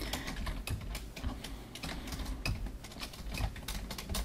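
Typing on a computer keyboard, a rapid irregular run of close, light key clicks with brief pauses between bursts.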